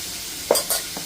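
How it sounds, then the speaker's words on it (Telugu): Radish pieces sizzle in hot oil in a pan under a steady frying hiss, with a couple of quick stirring scrapes close by. "ఇప్పుడు కొంచెం బాగా ఆయిల్లో మగ్గాయండి."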